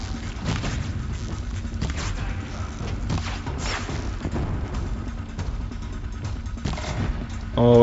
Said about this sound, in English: Why are they shooting at me?